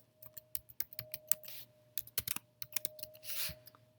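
Text typed on a computer keyboard, rapid close clicking keystrokes in short runs with a steady faint hum underneath, no speech.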